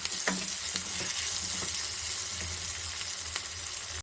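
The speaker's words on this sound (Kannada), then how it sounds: "ಈಗ ಈರುಳ್ಳಿ ಚೆನ್ನಾಗಿ ರೋಸ್ಟ್ ಆಗಬೇಕು." Onions roasting in oil in a pan, giving a steady close sizzle broken by a few spatula scrapes and taps as they are stirred, with a low background hum and no talk.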